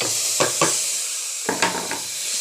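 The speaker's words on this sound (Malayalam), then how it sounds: "ഇനി ചിക്കനും കൂടി ഇട്ട് വഴറ്റുകയാണ്." Chicken pieces sautéing in a pan with chilli powder, coriander powder and chicken masala, a steady close sizzle broken by several scraping stirs, no talk.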